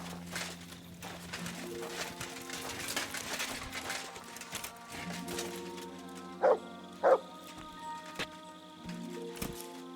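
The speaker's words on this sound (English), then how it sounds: "You silly doggy." Dog in the medieval game Kingdom Come: Deliverance II barking in a few sharp yips and bow-wows over soft game music, fairly near, with two louder barks standing out.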